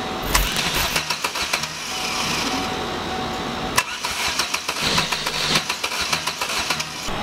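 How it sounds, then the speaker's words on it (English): A Chevy Cruze daily driver with a cheap eBay turbo fitted into the downpipe cranks with rapid cranking pulses, fires and runs, then cranks again with more pulsing bursts, loud and close with no talking. "I'm going to do a first start with just the turbo on in the downpipe."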